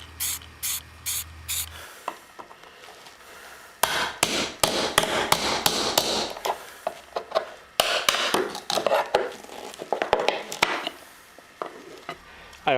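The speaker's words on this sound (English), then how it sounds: "I'm going to take a wire wheel brush hooked up to a drill." A wire wheel brush spun by a drill scrubs rust off a metal bathroom vent, coming in loud, harsh, hissing bursts of grinding with short pauses between passes, close to the mic and with no talking.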